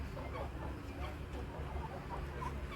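Chickens cluck in the distance at a poultry sale at KVK Narayangaon, soft scattered calls over a steady low rumble of background noise.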